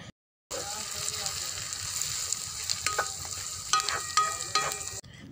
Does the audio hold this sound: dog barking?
no